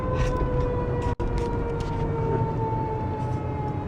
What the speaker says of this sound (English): There's a siren behind me.